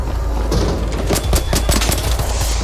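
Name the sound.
gunfire in the video game ARC Raiders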